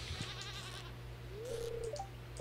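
A sheep on a Stardew Valley farm, ready for shearing, gives a short rising bleat, then a second brief call, clear and close over a faint steady background tone.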